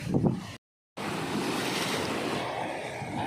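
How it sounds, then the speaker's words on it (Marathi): Loud, steady rush of ocean surf crashing and churning on the Konkan coast, after a brief dropout, with wind noise over the microphone and no voices. "पाण्याची मस्ती बघा खूप लाटा उसळत आहे"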